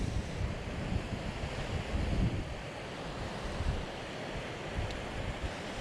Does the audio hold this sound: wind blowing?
yes